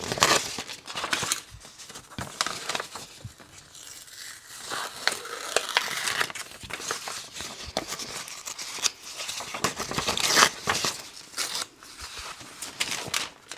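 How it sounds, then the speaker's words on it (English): A paper printout of a traced William Morris pattern is torn by hand around its edges, giving close, uneven bursts of ripping and crinkling paper that continue throughout. "I'm just going to tear it out around the edges."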